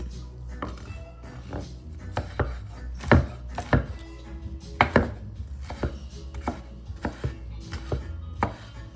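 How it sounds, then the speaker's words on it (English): A knife finely chops a bell pepper on a cutting board in a home kitchen, giving a string of sharp, uneven knocks close up that speed up and slow down, with no talking. "I'm chopping up these real fine"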